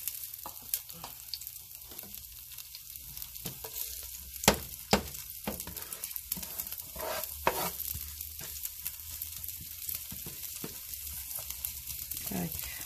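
Garlic and ginger sizzle steadily in oil in a pan for a pork stir-fry, with a continuous close frying hiss broken by occasional stirring scrapes and clicks.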